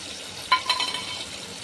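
Potato and peanuts hit a pan of hot oil and are stirred, giving a soft sizzle with a couple of brief clinks and scraping bursts early on, then a steady low frying hiss, close by and alone.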